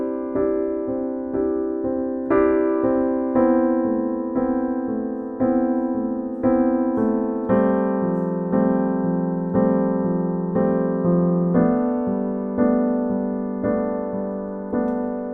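A piano plays a chord with an added color note from the pointer finger, repeated in a steady rhythm of struck chords that shift slightly over time, each decaying before the next, alone and clear.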